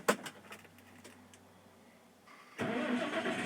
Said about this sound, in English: So I'm going to go ahead and start the tractor.